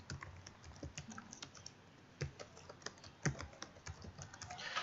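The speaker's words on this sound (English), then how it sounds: "and then type a password for the person" A password being typed on a computer keyboard: a quiet, steady run of light key clicks at an uneven pace, close and alone with no talk.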